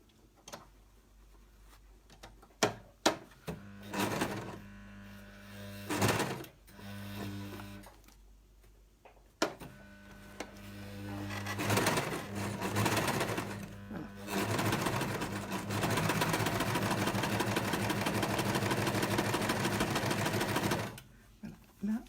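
An overlock serger stitches and gathers fabric with elastic caught in the seam, its motor whirring in short bursts at first, then running in a long steady loud stretch before stopping.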